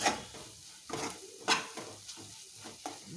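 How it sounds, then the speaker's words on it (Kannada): Grated coconut is stirred into frying vangibath masala in a pan, a soft steady sizzle broken by rhythmic scraping strokes of a spoon roughly every half second, close and alone. "ತೆಂಗಿನಕಾಯಿ ತುರಿ ಹಾಕಿ ಸ್ವಲ್ಪ ಚೆನ್ನಾಗಿ ಬಾರಿಸ್ಕೊತಾ ಇದ್ದೀವಿ"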